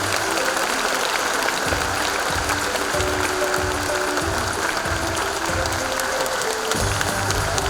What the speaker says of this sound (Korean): 시민 여러분께서는 큰 박수로 맞아주시기 바랍니다.